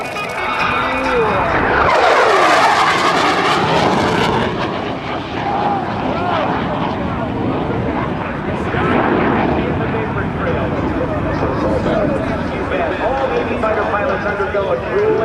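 An F/A-18C Hornet jet makes a high-speed pass at an airshow, a loud sustained roar that swells and fades over the whole stretch, with an announcer talking over it.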